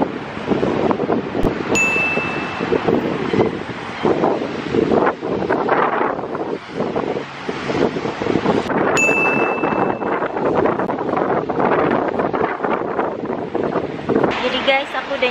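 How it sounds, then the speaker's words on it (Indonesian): Strong wind gusting outdoors during a snowfall in Moscow, a steady roaring rush buffeting the microphone for the whole stretch, with a couple of faint brief tones cutting through. "Dinginnya sebenarnya karena angin. Anginnya agak-agak gede."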